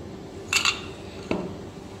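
A glass beaker with a seal clinks and knocks twice against lab hardware while a nuclepore filter unit is assembled, short sharp taps close by over a quiet room hum.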